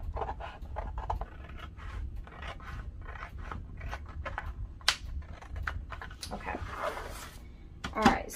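Scissors cut paper during a watercolor craft session, giving a quick series of crisp, close snips. Soft rustling and quiet voices sit underneath.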